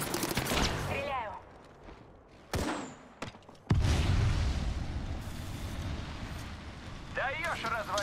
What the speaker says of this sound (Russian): В меня стреляют! Стреляю.